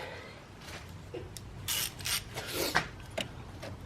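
A 10 mm ratchet tightens a fuse nut in a car, giving a few short bursts of clicking and scraping that are close and moderately loud, with no talk.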